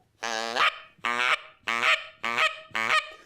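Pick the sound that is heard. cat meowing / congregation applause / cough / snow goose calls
snow goose calls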